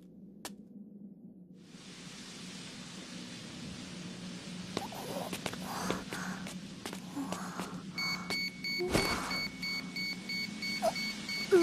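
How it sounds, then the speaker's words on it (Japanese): An alarm beeps repeatedly in an anime scene, thin electronic tones over a hissing, static-like background that grows louder, with sharp clicks and bursts near the end. "またアラームが。"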